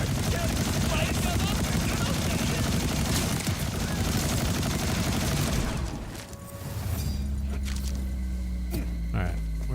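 Weapon fire in the shooter game Borderlands 4, dense rapid bursts of gunshots and booms that carry on for several seconds, then fade into quieter game sounds and tones.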